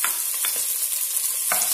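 Beans and carrot frying in a pan with cinnamon sticks and cardamom, a steady loud sizzle with a few stirring scrapes, close and continuous.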